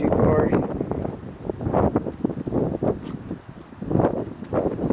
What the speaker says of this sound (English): wind has really kicked up.